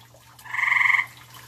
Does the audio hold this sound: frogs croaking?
yes